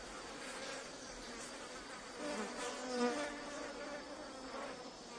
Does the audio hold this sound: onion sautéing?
no